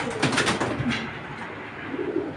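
A female black checker racing pigeon coos close by, a few loud, low throaty rolling calls in quick succession, heard alone without voices.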